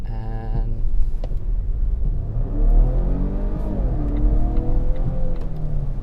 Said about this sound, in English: we test the acceleration properly, do a proper launch just to see how quick it is